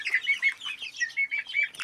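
Turkey poults chirp in a quick, steady run of high, thin peeps, several overlapping close by, with no voices.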